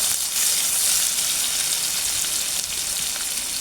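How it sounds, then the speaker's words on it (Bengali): Finely sliced onion sizzles steadily in a hot pan of oil while it is stirred, a dense, even frying hiss that stays loud and constant throughout, with no voices. "সেই পেঁয়াজটা এখানে দিয়ে দেবো। পেঁয়াজটাকে একটু ভালোভাবে নাড়িয়ে নেব।"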